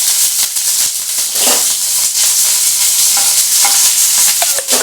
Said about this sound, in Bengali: এই তেলের মধ্যে আমি ছেড়ে দেবো কাঁচা লঙ্কা